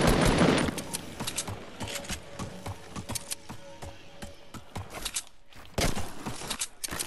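Rapid bursts of gunfire in Fortnite, dense crackling shots firing in quick succession with short gaps, loud and close, followed by a fresh volley near the end.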